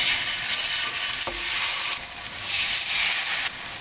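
Korean jeon pan-frying until golden in a frying pan, a steady close sizzle with a brief clack of a utensil partway through, no talking.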